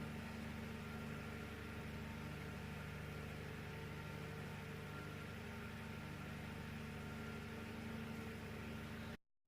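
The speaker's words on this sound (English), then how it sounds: "So even at this voltage, the motor works nicely, no problems at all." An AC motor-fan salvaged from a broken room heater runs at 130 volts with a steady, even hum and whir that cuts off abruptly at the end.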